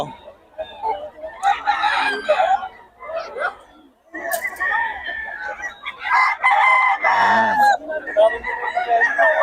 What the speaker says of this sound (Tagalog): Puro solid manok ni Boss Perry